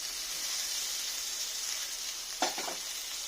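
Mutton with Kashmiri chilli powder and ground green chilli sizzles and fries in a pan as a steady, close hiss, with one brief stirring clatter near the end.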